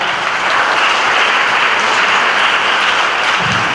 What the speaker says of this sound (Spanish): Un aplauso fuerte para